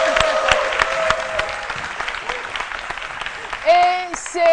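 Studio audience of a French midday TV show applauds a guest, a scattered layer of clapping beneath a presenter's talking, with a short musical jingle rising at the end.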